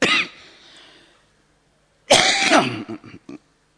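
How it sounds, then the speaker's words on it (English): A man coughs twice: a short burst at the start that trails off, then a longer, harsher cough after a pause, breaking into a few brief throat-clearing bursts close to the microphone. "You'll have to pardon my occasional coughs."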